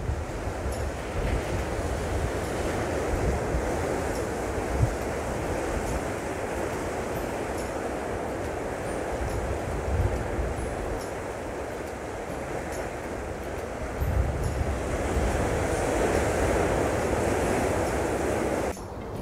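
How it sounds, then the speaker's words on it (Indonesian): Ocean surf rolling onto the shore at Gesing Beach in Gunung Kidul, Yogyakarta, a loud and steady wash of breaking waves with wind rumble, and no voices. "datanglah ke Pantai Gesing yang ada di Gunung Kidul,"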